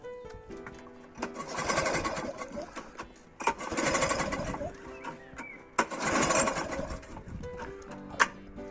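A petrol lawn mower that won't start is pull-cranked three times, each a rough mechanical burst of about a second and a half that dies away without the engine catching, over a steady tonal background.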